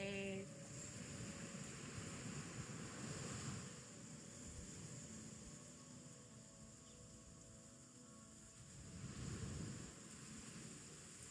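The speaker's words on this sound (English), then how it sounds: "Hearing the sounds of the waves." Steady broadband surf of ocean waves, fairly soft and continuous, swelling a little louder near the start and again toward the end, with no talking.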